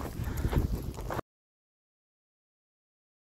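Cows walking through an open pasture on a hike in Ireland, a close run of heavy hoof thuds and rustling steps lasting about a second before the sound cuts to silence.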